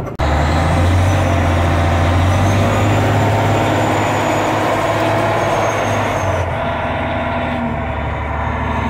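A heavy truck's engine rumbles steadily up close as it backs under a load during a heavy-haul rock crusher move, loud and continuous, with a brief hiss near the end.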